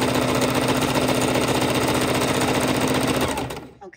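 A sewing machine runs continuously while stitching a raw edge appliqué cauldron with double-sided fusible, its steady rapid needle rhythm loud and close for about three and a half seconds before stopping abruptly.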